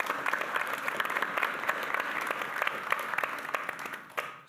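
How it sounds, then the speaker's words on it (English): An audience at the OKGN Angel Summit 2023 applauds the investors, with steady, fairly close clapping at even strength that fades out near the end. "I would love to give them a round of applause for the great work that they've done."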